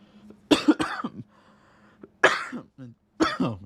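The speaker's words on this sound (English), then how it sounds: "There's my cough." A person coughing several times in separate harsh bursts with short gaps between, close and fairly loud, some with a throaty clearing quality, over a faint steady hum.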